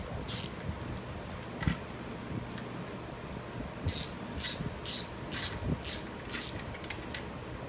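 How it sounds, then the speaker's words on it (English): A ratchet works rusty hub bolts loose on a 2001-2005 Ford Explorer: a quick run of six or seven close, crisp clicking strokes, preceded by a few scattered metallic ticks over faint workshop noise. "This one's pretty rusty and abused, but the bolts are coming out."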